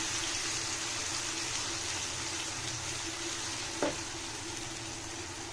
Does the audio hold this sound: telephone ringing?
no